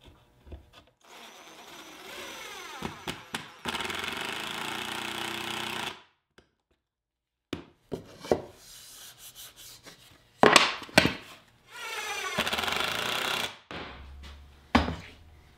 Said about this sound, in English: I'll attach the face frame with fine threaded pocket hole screws